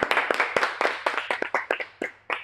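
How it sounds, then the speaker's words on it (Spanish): A small group claps hands in a live studio broadcast, a close, uneven burst of sharp individual claps tapering off after a couple of seconds. "un aplauso, por favor, para estos chicos"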